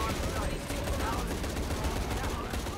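Rapid video-game gunfire from a Shadow of the Tomb Raider firefight, with dense overlapping shots and bursts. It runs continuously and loudly under a busy game mix throughout.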